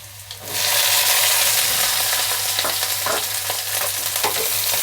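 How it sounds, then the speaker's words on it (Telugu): Sliced onions and green chillies drop into hot oil with ginger and garlic. A loud, steady sizzle swells in at once and keeps up, with stirring scrapes under it. "ఉల్లిపాయ పచ్చిమిరపకాయలు వేగనిద్దాం బాగా పచ్చివాసన పోయేదాకా"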